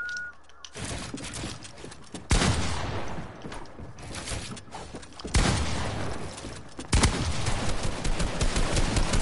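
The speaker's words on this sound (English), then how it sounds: "he sprays with an AR" Assault rifle spray fire in a video game, rapid bursts of automatic gunfire that break out several times, each running on for a couple of seconds at moderate level.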